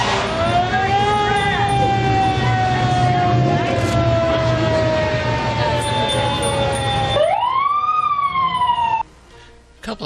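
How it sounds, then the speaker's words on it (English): A loud wailing siren rises and falls steadily from fire trucks in a parade, over a rumbling engine, then cuts off near the end leaving quieter background noise. "down in the distance you see fire trucks coming"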